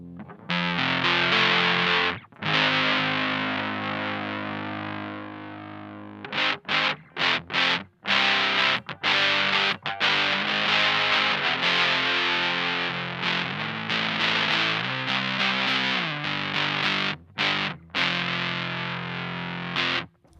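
An electric guitar runs through an overdrive pedal with the gain turned down and the volume up, playing loud chords and riffs with several brief pauses and no talking.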